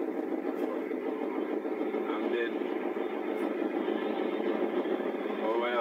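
A ferry's steady, powerful engine drones continuously at close range, a constant mechanical hum with no speech over it.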